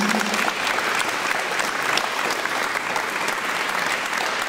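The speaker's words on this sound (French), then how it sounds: "Je les applaudis aussi" Steady, even applause from an audience at an outdoor memorial ceremony in Balbronn, dense clapping held at a constant moderate level for the whole stretch.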